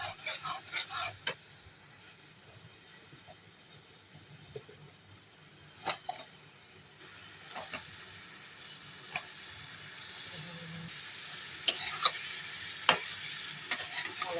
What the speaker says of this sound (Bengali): এখন আমি তরকারি ছেড়ে দিব।